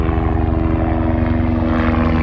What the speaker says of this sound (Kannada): ಇಲ್ಲಿ ಹೆಲಿಕಾಪ್ಟರ್ ರೈಡ್ಸ್ ಇರುತ್ತೆ ಮೌಂಟ್ ಕುಕ್ಗೆ